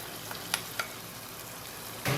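Chicken with garlic, spices and onions fries in a pan, giving a faint, steady sizzle with a few soft stirring knocks and a louder scrape near the end.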